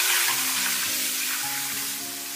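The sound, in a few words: stir-frying scallions and chilies in lard and oil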